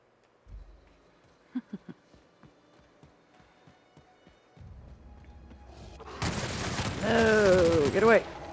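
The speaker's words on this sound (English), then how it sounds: "It's actually a light machine gun." Light machine gun gameplay fire in The Outer Worlds, starting as a few sharp spaced thumps and building into a loud, dense barrage of gunfire with rising metallic whines near the end.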